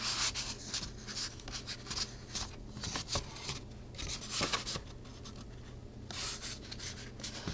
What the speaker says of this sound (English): So let's go ahead and fold our paper.